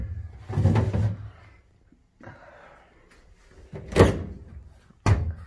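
A fridge freezer drawer, its front cracked, slides open and shut a few times in a rented flat's kitchen: a rumbling slide, a pause, then two sharp knocking closes near the end, close and fairly loud.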